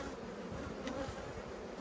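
Honeybees drone at an opened hive during an inspection, a steady, close, even buzz with no voices.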